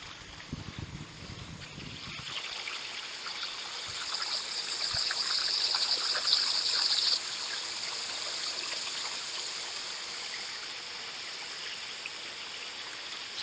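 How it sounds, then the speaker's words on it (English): Water rushes over the riffles of a hand-mining sluice, a steady turbulent gurgle and hiss that rises after a brief rumble at the start and continues evenly throughout. "Fairly good water flow."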